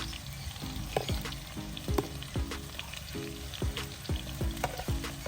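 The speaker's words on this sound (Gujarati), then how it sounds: "લીલું લસણ નાખી દીધું હવે નાખીશું આપણે લીલા મરચા હવે થોડી વાર આપણે ફ્રાય થવા દઈશું આને" Green garlic frying in oil in a pan, with a sizzle under repeated rhythmic stirring strokes and scrapes, plus a steady tonal hum in the background.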